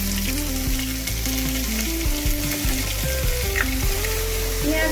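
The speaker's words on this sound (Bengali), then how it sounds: "এবার আমি দেব 2 চামচ পেঁয়াজ বাটা।" Onion paste hits hot oil already seasoned with cumin seeds and green chilli, giving a dense, loud, steady sizzle under soft background music.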